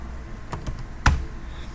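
A few crisp keystrokes clack on a computer keyboard as a button name is typed, close and distinct against a quiet background, with the last press the loudest.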